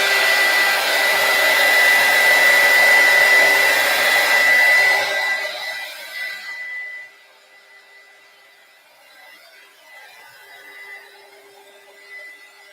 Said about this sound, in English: I'm actually going to take my dryer to help me out with some of this.